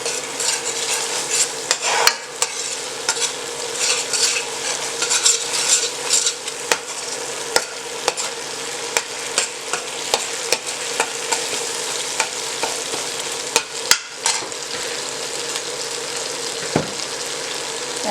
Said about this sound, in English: So I'm going to cook this curry paste,